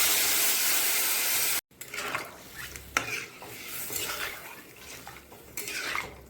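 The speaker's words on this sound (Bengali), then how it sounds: "এখন এর ভিতরে দিয়ে দেবো জল।" Water poured into a pot of duck egg curry, a loud rushing hiss of liquid hitting the hot pan that cuts off abruptly, followed by bubbling and clinks of a spoon stirring against the pot.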